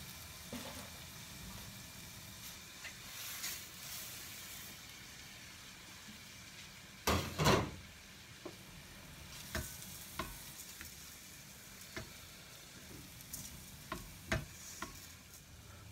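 Risotto rice toasting with shallots in a pan for a tomato and mozzarella risotto, giving a soft, steady sizzle under quiet, scattered scrapes of stirring, with one louder clatter partway through.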